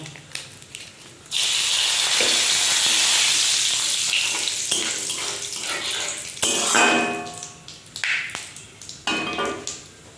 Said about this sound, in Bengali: এবার তেলের মধ্যে দিয়ে দিচ্ছি দেখো আমি গোটা জিরে, আর দিয়ে দেবো এই যে 2টো তেজপাতা